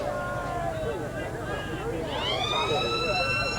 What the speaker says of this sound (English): There's the siren to end the term.